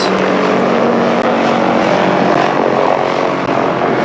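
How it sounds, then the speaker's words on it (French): A loud, steady rumbling drone of a patrol helicopter flying overhead, constant throughout with no talking. "Là, regardez, c'est un hélicoptère de patrouille."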